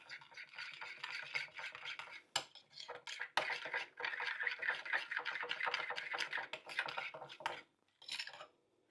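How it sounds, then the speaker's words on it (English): Potato salad with dill pickle is stirred in a bowl, a busy scraping and clinking of a utensil against the dish in quick, uneven strokes, close up, with a short pause near the end. "Now let's mix all this up."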